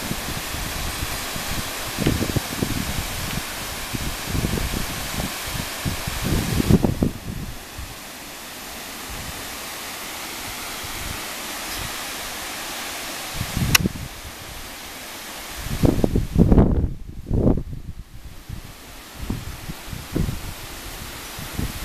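Wind gusts outdoors in a steady broadband rush with rumbling buffets against the microphone that swell and ease over about twenty seconds.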